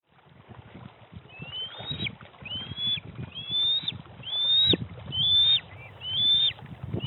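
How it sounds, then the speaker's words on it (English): Curious eaglets at a nest on a tiny island on Lake Carmi give a series of rising, squealing high calls, repeated roughly every second, over a low rumbling wind and water background. "That sound you're hearing is curious eaglets checking out a camera on a tiny island on Lake Carmi."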